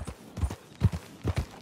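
Close hoofbeats from a horse in Red Dead Redemption 2, heard as a quick run of paired, muffled clip-clops falling in an uneven rhythm, with no voices.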